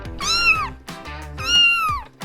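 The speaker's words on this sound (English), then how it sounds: "there's a kitten stuck on a rooftop" A kitten meows twice, loud and close, each call a drawn-out rising-then-falling mew, with a short pause between them.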